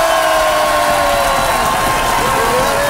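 Studio audience applause on a French television talk show, a loud, dense, steady wash of clapping with a faint tone running underneath, continuous throughout.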